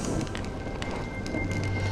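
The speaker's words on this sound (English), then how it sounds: "When will this rain ever stop?" Steady rain falls across the whole stretch, a dense, even hiss of drops with no voices and no clear pauses, loud and close throughout.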